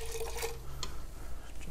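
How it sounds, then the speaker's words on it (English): Water trickles and splashes as it is poured into a pot of blood orange marmalade, a soft, steady liquid sound under a low background hum. "I'm going to actually give this just a little bit of water just to bring that up a little bit."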